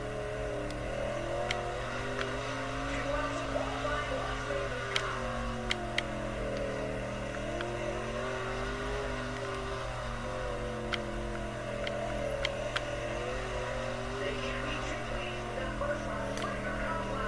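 A sprint car engine drones and rises and falls in pitch through the turns of a qualifying lap in a World of Outlaws racing game, a steady close buzzing whine with faint ticks throughout.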